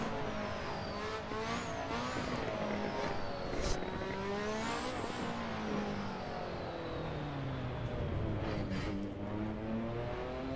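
The Lotus 98T race car in Assetto Corsa screams at high revs, its engine pitch sweeping up and down through gear changes and corners, loud and continuous with no pauses.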